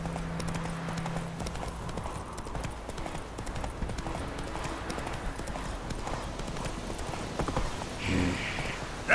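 Roach the horse galloping in The Witcher 3: Wild Hunt, steady rapid hoof clip-clop throughout, moderately close, with a brief voice near the end.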